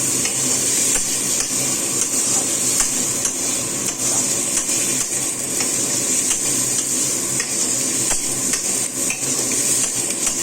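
Spices being sautéed in a pan with steady stirring, a continuous sizzling hiss broken by frequent light scrapes and taps of the utensil, no speech.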